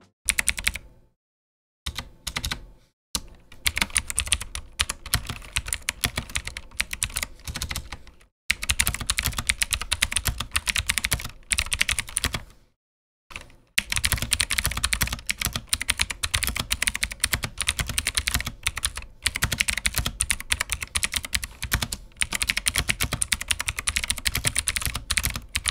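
A cheap mechanical RGB keyboard is typed on in fast, continuous bursts of sharp, close clacking keystrokes, with brief pauses between runs and no talking.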